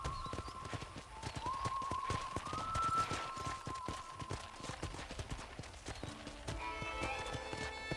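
Horse hooves clip-clop steadily while riding in Red Dead Redemption, a continuous mid-level patter beneath a sustained musical tone and scattered game ambience, with no talk.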